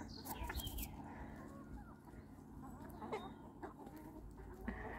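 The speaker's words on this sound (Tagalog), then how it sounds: "Ang laki ng manok, oh." A large chicken clucks in the Tuscan countryside, a few soft, scattered calls over faint outdoor background noise.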